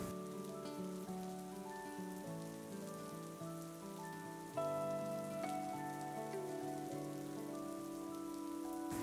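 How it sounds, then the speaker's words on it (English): Steady rain falls on a surface during a thunderstorm, a constant faint patter, while sustained tonal music plays over it. "it is raining and thundering and it got so dark just now"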